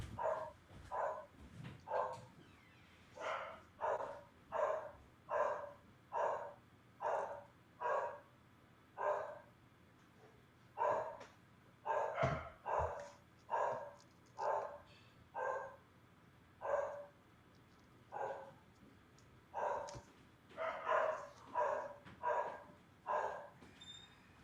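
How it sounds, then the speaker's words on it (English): Dogs bark over and over in a steady, insistent series of regular barks, somewhat distant and moderately loud, continuing without pause and with no talking. "Dogs are going bonkers."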